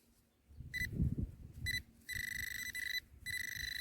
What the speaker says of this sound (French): J'ai eu un son fixe à 81 sur mon garrette